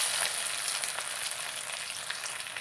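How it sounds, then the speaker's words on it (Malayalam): Coconut pieces fry in hot coconut oil for a curry, giving a continuous bright sizzle with crackling pops, close and steady, with no talking. "വെളിച്ചെണ്ണ നന്നായിട്ട് ചൂടായിട്ടുണ്ട്. നമുക്ക് കുറച്ച് തേങ്ങാക്കൊത്തിട്ട് കൊടുക്കാം."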